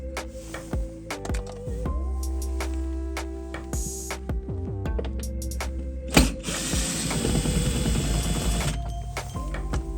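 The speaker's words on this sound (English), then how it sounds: "the pillar under the airbag decorative plastic has a TX25 screw that needs to be unscrewed" Hand ratchet clicking rapidly in close, uneven bursts while backing out a TX25 screw from a pillar trim panel inside a VW Passat B6, with small plastic rattles and knocks between strokes.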